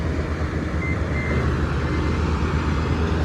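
A brand-new combine harvester working a paddy field, a loud, steady engine drone with a constant rumble and no break across the whole stretch, no talk.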